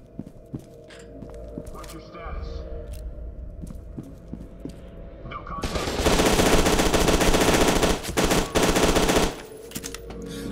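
Gunfire in the shooter game FEAR 2: scattered single shots and footsteps at first, then a loud sustained burst of automatic fire and heavy noise in the second half, with someone talking over it.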